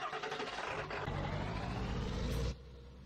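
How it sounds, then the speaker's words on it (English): A 2016 Chevy 2500HD Duramax diesel pickup in Farming Simulator 19 drones steadily and close by, its engine building slightly before dropping abruptly to a quieter hum near the end. "We'll be heading over to the shop in our 2016 Chevy"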